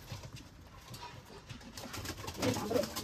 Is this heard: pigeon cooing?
yes